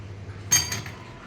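A pot of Kerala-style moru curry lifted off a gas stove and set down, one short metallic clink with a faint ringing tail in a quiet kitchen.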